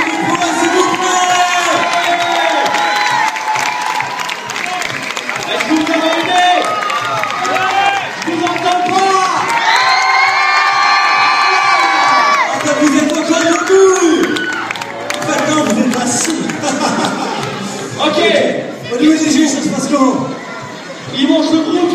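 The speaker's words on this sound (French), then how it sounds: "qu'on applaudisse très fort ces trois groupes" Crowd at a street-dance freestyle battle between three dance crews applauds and cheers, with shouts and clapping rising and falling over a loud announcer's voice through much of the clip.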